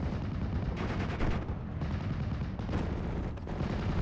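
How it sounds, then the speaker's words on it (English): Artillery shelling and machine-gun fire in the World War II strategy game Steel Division, with continuous rattling bursts and deep booms filling the whole stretch at a steady, loud level. "I'm going to bring in my artillery."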